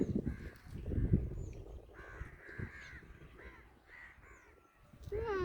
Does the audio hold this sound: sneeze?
no